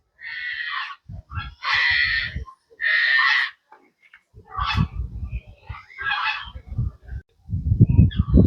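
Several loud honking bird calls in short bursts, mixed with clucking and squawking chickens close by, including an Indian yellow-ringed chicken, repeated through the clip, at a bird farm in Jaffna.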